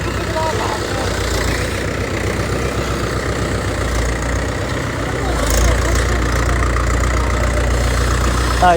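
A tractor engine idles nearby in a steady, low, throbbing chug that holds through the whole stretch and grows slightly louder near the end.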